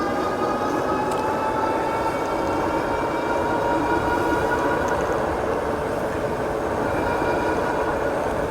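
A Buzz Beekeeper cargo electric bike climbs a hill on thumb throttle, giving a steady motor hum and whine over heavy, continuous wind rumble, with no talking.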